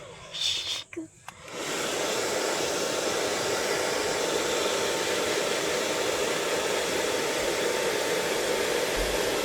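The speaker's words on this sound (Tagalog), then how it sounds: "Masama ang blower." A faulty blower on a boat runs with a steady, loud broadband hiss and rush that starts after a brief pause of quieter sounds and holds unbroken to the end.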